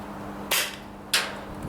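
Double Eagle M66 700 Pro rifle fired from a standing position, two sharp, fairly quiet reports about half a second apart over a low steady hum.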